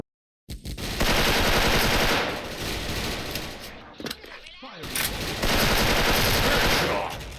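M4A1 rifle fire in the shooter video game Special Force: sustained rapid full-auto bursts, loud and close, broken by one short pause before firing resumes at the same steady rate.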